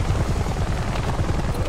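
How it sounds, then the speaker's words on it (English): A helicopter in the video game Army of Two: The Devil's Cartel, its loud low rotor thumping steadily close by throughout, with no voices. "Boost me up into the chopper."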